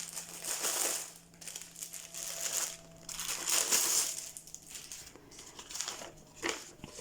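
Plastic packaging of a cross stitch kit crinkles and crackles as it is torn open, close-up bursts of rustling and crumpling in uneven waves separated by brief pauses, fairly quiet, no voices.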